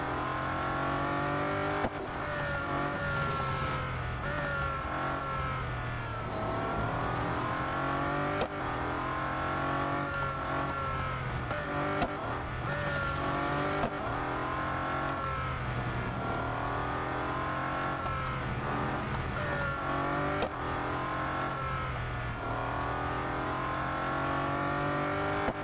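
Bugatti Centodieci hypercar racing at Suzuka in Real Racing 3, its engine roaring loud and continuous with repeated rises and drops in pitch as it accelerates and shifts through gears, no voices over it.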